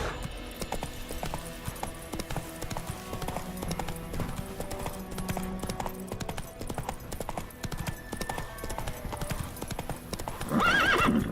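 A horse in The Witcher 3 gallops with rapid rhythmic hoof clip-clops, overlaid with game music, and ends in a loud neigh near the end.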